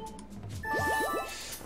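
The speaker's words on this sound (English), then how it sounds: "The Wiimote makes noise when she's trying to talk to you, I think." A chime from the Wii Remote speaker when Fi speaks in The Legend of Zelda: Skyward Sword, a short bright ringtone-like jingle of quick rising tinkling notes, heard alone.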